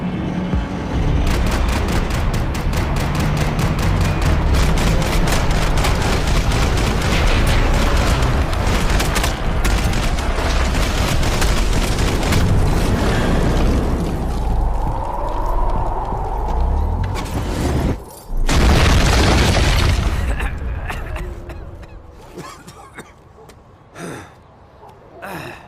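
Gunfire and explosions from Max Payne 3 rattle in a long, dense, loud barrage, with sharp rapid shots, heavy booming and a sudden blast near the end before things thin out.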